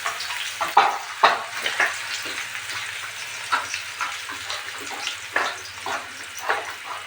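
Chopped onions with cumin sizzle in hot oil, the frying crackling in uneven bursts as they are stirred, with soft scraping and a low hum underneath.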